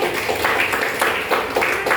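A small class in a classroom teaching session applauds with steady, close group hand clapping in dense repeated bursts, fairly loud and unbroken for about two seconds with no speech over it.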